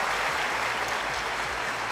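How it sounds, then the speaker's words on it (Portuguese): Audience applause for municipal civil guards at a Guarulhos anniversary event, continuous dense clapping at moderate volume filling the whole moment. "Palmas para eles antes, por favor, palmas para eles."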